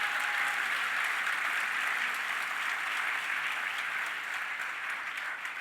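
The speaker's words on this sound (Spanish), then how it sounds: "Dale un aplauso fuerte a Jesús" Church congregation applauding loudly at a Spanish-language worship service, dense sustained clapping from a large crowd that holds strong for several seconds and tapers only slightly at the end.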